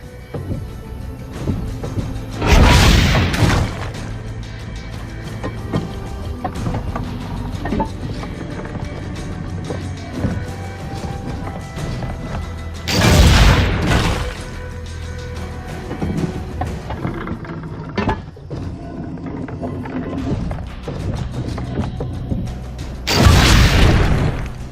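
Cannon fire in Assassin's Creed Brotherhood, three loud booming blasts spaced about ten seconds apart over a busy background of game ambience.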